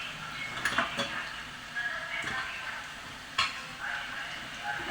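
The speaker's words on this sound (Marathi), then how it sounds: "कांदा लवकर फ्राय होतो मीठ घातलं." Onion frying in a pan with salt added while cooking masala khichdi, a steady soft sizzle with a few sharp stirring clinks and scrapes near the start and middle, close and moderately quiet.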